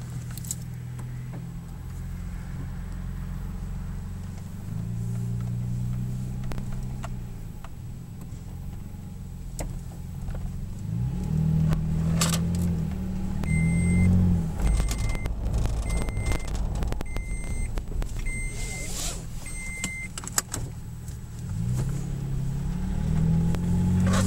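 A 2010 Toyota Tacoma PreRunner SR5 TRD on a test drive after a transmission fluid and filter change, its engine droning steadily and rising and falling through gear changes, with faint clicks and a few brief electronic beeps.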